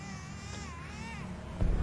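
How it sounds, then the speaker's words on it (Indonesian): A baby cries with a wavering, drawn-out wail, fairly clear and steady, ending in a low thump or rumble of movement. "saya dengar suara seperti tangisan bayi di situ"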